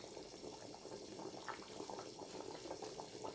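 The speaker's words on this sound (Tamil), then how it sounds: "நல்லா கொதி வந்துருச்சு." Water boils in a pot for beef keema biryani, a faint, steady bubbling and churning that carries on without a break.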